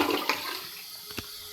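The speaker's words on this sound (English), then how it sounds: "Not bad flush." A hotel toilet flushing in a tower room at the Tropicana in Atlantic City, New Jersey, with one strong rushing whoosh of water that drains away, followed by a short gurgle near the end.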